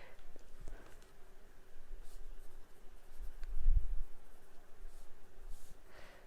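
Pen scratching across paper while a square-and-square-root maths lesson is written out, a soft continuous scribble close by with faint room hiss and no talk.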